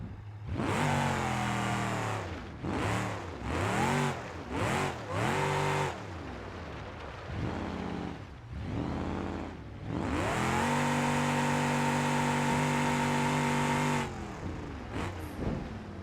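A car engine in the BeamNG.drive driving game revs repeatedly while driving, short rising bursts with gear-like drops, then a long sustained high rev that cuts off and sputters near the end.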